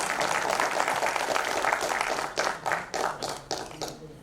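Audience applause at a corporate social responsibility conference, a steady patter of many hands that fades into a few sparse, distinct claps trailing off near the end.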